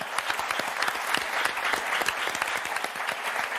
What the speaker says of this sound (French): On va vous applaudir très fort Aurélien, Corinne, bravo.